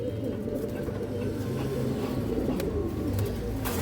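A flock of Totamadi pigeons of an old lineage keeps up a dense, rolling coo nearby, the low throaty burbling running unbroken throughout with faint chirps and rustle on top.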